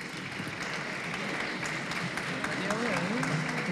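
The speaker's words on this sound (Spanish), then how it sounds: "Agradecemos al colegio su participación, un fuerte aplauso." Applause from an audience at a school debate event in Valparaíso, a broad wash of clapping under a voice talking over it.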